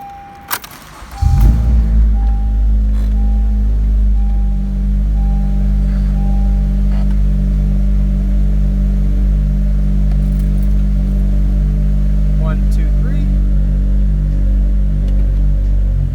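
2013-2017 Honda Accord engine starting with a short crank and then idling steadily, a low continuous rumble close by with a few faint clicks and rattles.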